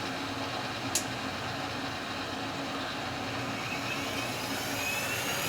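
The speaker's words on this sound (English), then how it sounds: "Let me just get my little grinder out." A small Dremel rotary grinder cleans high points off a part from an AMT 1963 Corvette model kit. It makes a continuous close whirring drone with a single faint click early on, and no speech.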